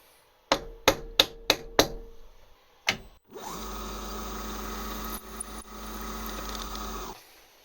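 A 1/2 inch reamer is tapped in with the rawhide end of a mallet in five quick, sharp knocks, followed by a single later knock, then a steady machine hum runs for several seconds.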